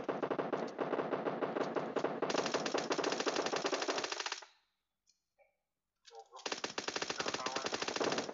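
Minigun firing in long rapid bursts in PUBG Mobile's zombie mode, loud and dense, cutting off for about two seconds and then resuming at full intensity.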